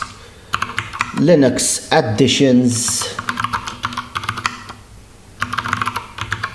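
A terminal command for installing VirtualBox guest additions is typed on a computer keyboard while setting up elementary OS Linux. Close, rapid key clicks come in bursts, with someone talking over part of it.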